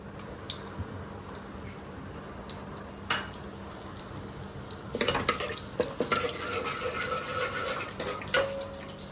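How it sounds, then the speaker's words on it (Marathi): Bay leaf and whole garam masala spices hit hot oil in a pan while preparing a Marathi-style prawn biryani, giving a soft sizzle with scattered crackles and stirring clatter, fairly quiet and close, with no speech. "तेल मस्त की छान गरम झालेले त्याच्यामध्ये मी तेजपत्ता आणि अख्खे गरम मसाले टाकतोय"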